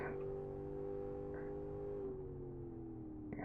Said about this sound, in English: Sounds awesome. Love the V8 sounds.